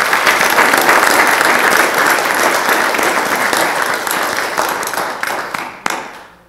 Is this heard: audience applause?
yes